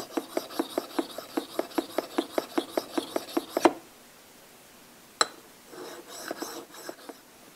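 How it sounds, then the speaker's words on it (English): A high-speed steel thread cutting tool honed by hand on a diamond stone: about sixteen quick, even rasping strokes in a steady rhythm, close and clear, then a pause, one sharp knock and a few softer scrapes. "I'm going to take it and hone it on the diamond stone over there"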